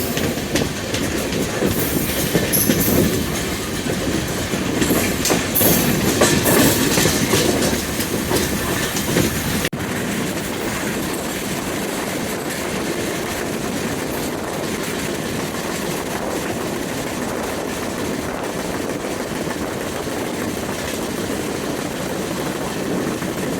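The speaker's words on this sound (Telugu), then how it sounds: "మనం అన్నది చల్లపల్లి ప్లాట్ఫామ్ 3 నుంచి స్టార్ట్ అయిపోయామండి" A passenger train pulls out of platform 3 at Challapalli station and rolls along the rails, a continuous loud rumble with clattering wheels and brief high squeals early on, then a steadier, smoother run.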